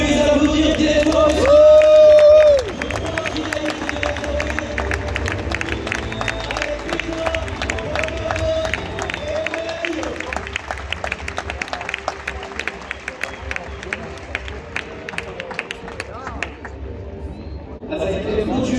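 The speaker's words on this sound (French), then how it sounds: "Et on peut les applaudir très fort." A festival crowd in the arena at Beaucaire applauds and cheers after a recortadores and focardos bull event, with steady clapping and crowd noise under a loud announcer's voice, plus brief whistles.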